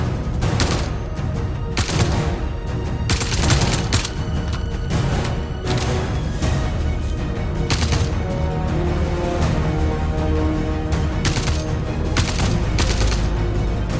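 Dense bursts of gunfire from shooter gameplay in Star Citizen as enemy NPCs swarm, with rapid repeated shots and loud cracks in clusters, near and continuous, with no talking.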